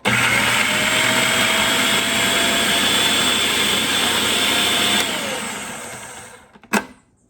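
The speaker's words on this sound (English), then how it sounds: "So start out with a small avocado. Let's just blend this up here." A blender whirs steadily through a small avocado for a keto chocolate mousse, running loud and even for several seconds before spinning down, then a short knock sounds as it stops.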